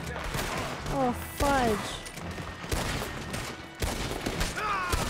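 Gunfire in the video game Red Dead Redemption 2: several sharp shots crack out over busy in-game ambience, and a voice briefly exclaims.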